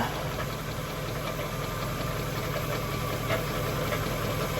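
A Jaguar car's engine runs at a steady idle, its compressor sounding as a continuous low hum with faint rhythmic ticking, even and moderately quiet throughout, with no voices.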